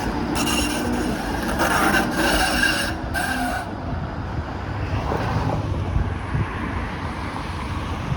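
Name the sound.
Bombardier Flexity Outlook streetcar passing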